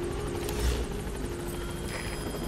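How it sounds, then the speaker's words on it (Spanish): A helicopter in the video game Metal Gear Solid V arriving, its steady rotor drone and hum filling the scene continuously at moderate loudness, with a faint tonal whine above. "Llamamos a nuestro helicóptero."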